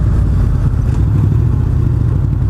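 A 2015 Honda VFR800X Crossrunner motorcycle riding on a road: a steady, low engine drone with a faint mechanical clatter, close and continuous, with no speech.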